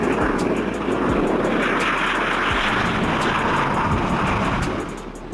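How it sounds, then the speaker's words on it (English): A private jet in flight gives a continuous loud rushing engine roar with a few low thumps, sustained throughout and easing slightly at the end. "A jet aircraft designed for private use, typically by individuals or companies"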